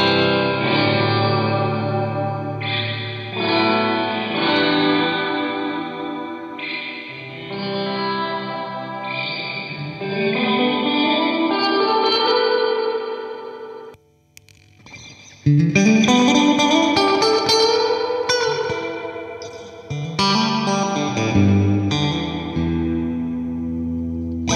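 Electric guitar through a very long, very wet reverb, comparing a Mosky spring reverb with an EHX Holy Grail Nano pedal: strummed chords and picked notes bloom into a dense, washy tail that smears each attack, with a brief dip before a louder, sustained passage.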